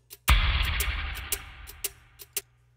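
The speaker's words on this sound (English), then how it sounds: "And now I'll turn the reverb on." Snare drum hit from an Apple Loops half-time shuffle groove in Logic Pro X, played with reverb: a loud, sharp crack opening into a long washy tail, followed by softer drum hits and ticks spaced through the loop.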